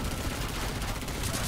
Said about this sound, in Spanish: O tú o yo disparos de la cabeza, con la Deagle